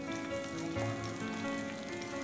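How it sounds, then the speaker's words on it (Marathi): Green chilies roasting in oil on a hot tawa, a soft continuous sizzle and crackle, steady and fairly quiet, with no voices. "मिरच्या छान भाजून घ्यायच्या आहेत."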